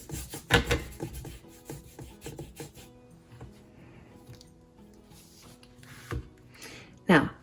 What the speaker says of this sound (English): I just kind of rub that color in just to kind of lighten that foreground up a little bit